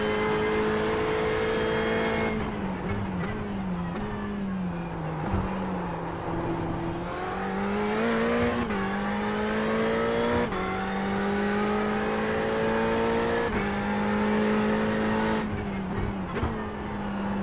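A Ferrari 488 race car from Le Mans racing is driven in a video game, with a loud, steady engine drone that rises and drops through gear changes and revs, close and sustained with no talking.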